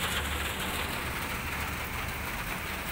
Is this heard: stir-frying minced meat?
no